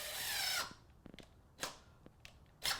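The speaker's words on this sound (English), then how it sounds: "now I'm going to take 2 screws and lock this in place." A power drill drives two screws into wood in a home woodshop: a loud whirring burst at the start, then quieter short bursts and clicks, with two further brief drill bursts later.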